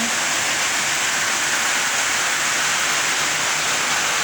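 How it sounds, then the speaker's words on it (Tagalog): Loud, steady rushing floodwater pours into a house, filling the whole clip with a dense broadband roar like a torrent pouring in, with no voices over it. "pinasok na po kami ng tubig"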